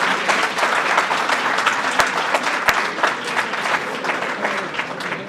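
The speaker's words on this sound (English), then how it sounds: "give a huge round of applause to MLA Joe Cici" A crowd applauds steadily for an MLA at the Alberta NDP nomination event for Irfan Sabir in Calgary-Bhullar-McCall. The clapping is dense and sustained throughout, with two sharp cracks standing out partway through.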